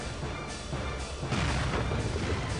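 Heavy booming blasts of cannon fire in the video game Serious Sam II, dense and continuous with a brief surge in the middle, loud and close.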